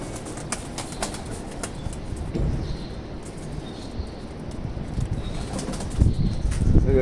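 A young pigeon is released from a rooftop and flaps its wings in quick, papery bursts over a noisy outdoor background. The flurry grows louder near the end, with no one speaking.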